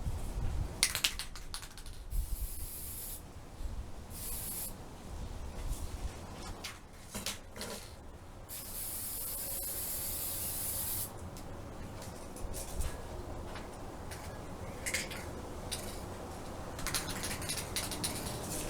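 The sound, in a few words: spray painting a dollar store mirror jar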